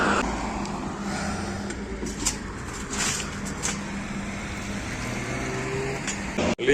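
Steady road traffic with cars flowing past a street intersection, a continuous near rumble of engines and tyres with a few louder passing swells throughout.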